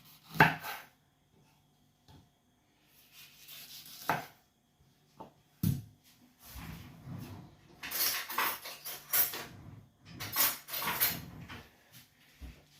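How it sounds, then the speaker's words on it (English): A knife slices a chili in half on a cutting board in a home kitchen, giving scattered sharp taps and thuds with short bursts of knife-on-board scraping and chopping, close and clear with no voices. "I'm going to take my chili, I'm going to cut it in half."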